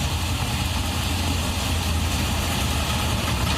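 Steady engine drone with broad wash noise, a motorbike pushing through a flooded street in Bikaner with the bike half submerged, continuous and moderately loud with no talk.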